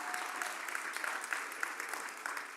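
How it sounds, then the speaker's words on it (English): Audience applause at a TEDx event at Queen's University Belfast, a steady, fairly faint wash of many hands clapping throughout, with no voices over it. "Humbled by that round of applause."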